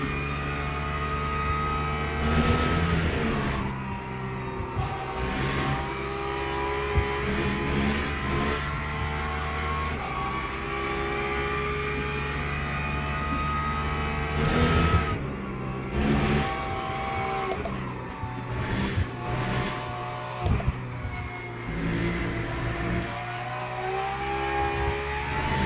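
Race cars lapping in Le Mans Ultimate, GT3 and LMP2 machines at Silverstone, engines droning and revving steadily with pitch rising and falling through gear changes, loud and close, no talking.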